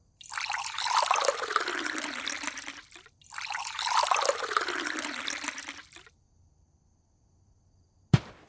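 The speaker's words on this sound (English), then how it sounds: "I would say the tea is steep well enough. We just pour it" Tea is poured from a pot into a cup in two steady streams of about three seconds each, with a short pause between them. It sounds close and moderately soft, and a small clink follows at the end.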